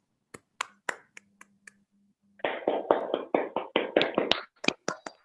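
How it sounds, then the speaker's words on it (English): Applause for teachers at an online felicitation ceremony for Corona warrior educators: a few scattered claps, a pause, then a dense burst of steady clapping that breaks back into scattered claps at the end. "we have a huge round of applause for all the teachers,"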